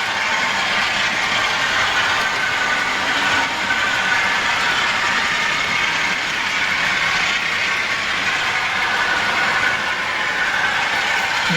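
A model train runs along its track, a steady close mechanical rumble with faint rhythmic clicking of wheels that holds at an even level throughout.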